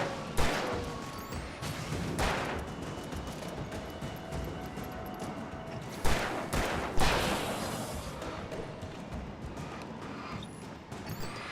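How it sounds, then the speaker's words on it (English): Flashbang blasts in Alan Wake Remastered on PS5 ring out as sharp, loud bangs, several spaced impacts with the strongest around the middle, over a rumbling game background. "I done wasted my flashbang."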